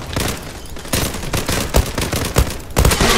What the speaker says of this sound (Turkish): bak şarjör boşalttım şarjör